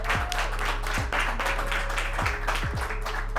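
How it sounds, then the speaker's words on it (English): Audience applause at a product launch competition, a steady wash of many hands clapping throughout, with occasional low thumps underneath. "Everyone, round of applause, please."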